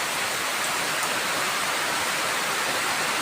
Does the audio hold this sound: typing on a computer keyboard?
no